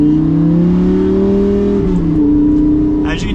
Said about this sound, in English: setting off in the Gallardo, we are just in automatic normal mode